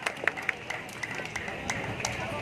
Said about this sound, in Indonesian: Boleh-boleh tepuk tangan dong buat Non Siti juga.